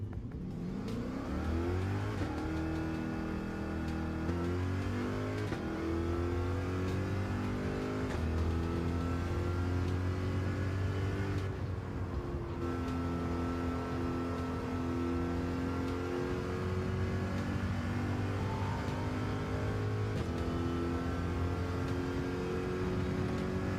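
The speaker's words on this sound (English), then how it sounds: "Maybe not over the sound of the cars" Racing car engines in the Gran Turismo 7 video game, a continuous loud high-revving roar rising and falling through gear changes with overlapping cars, unbroken for the whole stretch.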